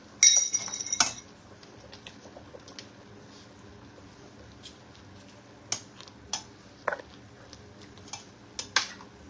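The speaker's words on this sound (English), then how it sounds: "I'm stirring because, like I said, I don't want anything to stick to the bottom of the pan" A spoon stirs soup for a vegan lasagna in a pan, giving a busy clatter at the start and then scattered light metallic clinks and scrapes against the pan at close range, with no talking.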